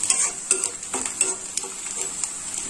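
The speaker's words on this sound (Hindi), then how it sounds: "प्याज हमारी ब्राउन होने वाली है, प्याज हमारी भून रही है।" Onions frying and browning in a pan for vegetable rava upma, a steady high sizzle broken by repeated scraping stirs and light spoon-on-pan clinks, close up with no talking.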